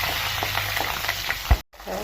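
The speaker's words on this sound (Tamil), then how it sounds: "அரை ஸ்பூன் கடலை பருப்பு, அரை ஸ்பூன் உளுத்தம்பருப்பு போட்டு நல்லா வறுத்துக்கலாம்" Urad dal and chana dal fry in hot oil for a chutney tempering, giving a steady close sizzle with a brief knock of a utensil near the end.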